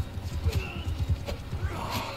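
Horse hooves drumming in a rapid, steady rhythm as a horse gallops in the medieval combat game Bannerlord, close and continuous, with faint battle noise and scattered shouts behind.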